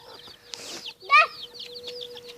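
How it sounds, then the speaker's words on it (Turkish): Chicks in a garden cheep and cluck in short, close bursts, with one louder squawk in the middle over a faint steady background hum. "Maşallah cücükleriniz çok tatlıymış."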